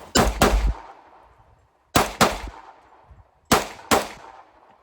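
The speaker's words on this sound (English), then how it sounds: "This gentleman is not small. And that is definitely a pocket pistol." Three pairs of sharp pistol shots from a pocket pistol, each shot loud and cracking with a quick decaying tail, pairs spaced about 1.7 seconds apart, heard alone without talk.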